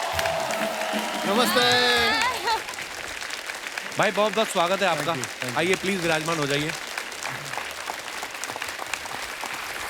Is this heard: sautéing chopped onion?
no